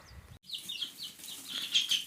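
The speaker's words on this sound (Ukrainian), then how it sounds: "Ну ось наші курчатка." Two-week-old chicks in a rural Ukrainian yard, soft rustling wingbeats and fluttering with high cheeping calls, close and fairly quiet, repeating in short bursts after a brief gap.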